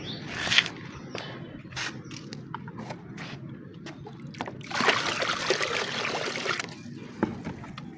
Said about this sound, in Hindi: इसमें हम और पानी ऐड करते हैं।